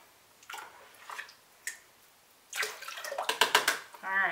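Water is poured into a container in short splashy bursts, followed by a longer, louder trickling pour, with a voice speaking near the end.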